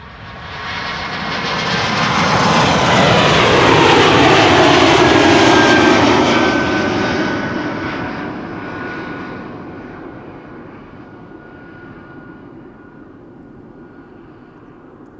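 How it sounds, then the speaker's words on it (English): An Airbus A220-300 (Bombardier C-Series) jet airliner, registration YL-ABT, a year old, on a flight to Vilnius at Amsterdam Schiphol Airport, builds to a loud, broad engine roar with a pitch-shifting whine, then fades steadily as it moves away. "A220-300 Bombardier C-Series flight 962 to Vilnius"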